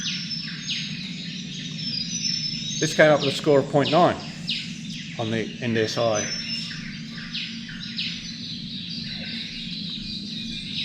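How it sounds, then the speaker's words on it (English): Woodland birds at a site in Nillumbik, including a yellow robin and a grey fantail, chirp and whistle in short bright phrases over a steady insect hum while someone talks over them. "So that's the yellow robin, there's the grey fantail."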